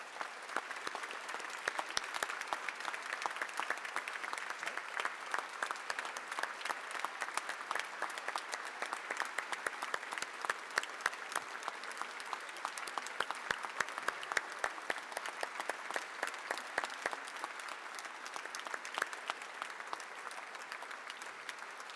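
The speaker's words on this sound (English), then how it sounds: "give yourselves, and probably most importantly, your loved ones and your friends, a round of applause for making all this possible today" Sustained applause from a large audience in the Massachusetts House chamber, steady dense clapping lasting throughout without pause.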